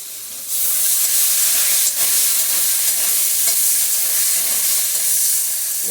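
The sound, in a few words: salted hilsa fish frying with salt and turmeric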